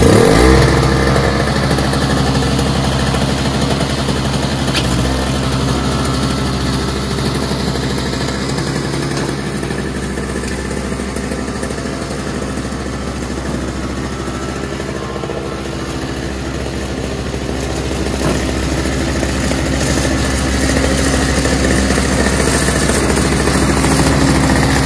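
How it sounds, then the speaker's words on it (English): A Toro single-stage snowblower engine runs steadily at close range, a constant buzzing drone with slight rises and dips in speed, no voices. "now it really starts up very well"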